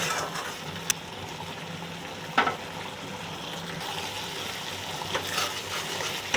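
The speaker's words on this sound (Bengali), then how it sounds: "কাঁচা লঙ্কা দিচ্ছি।" Green chillies dropped into sizzling masala in a pan for egg tadka: a steady close frying hiss with a few sharp clicks and light knocks scattered through, no speech.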